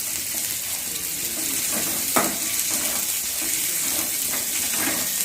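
Chopped onions sauté in a pan with a steady, soft sizzle close by, broken by a brief clatter of stirring, continuous throughout.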